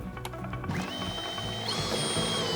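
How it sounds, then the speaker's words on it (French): Wood screws driven into an OSB board with a power driver, a steady whirring, grinding drive that rises in pitch as the screw bites in, close and alone without speech. "le visser sur ma planche d'OSB"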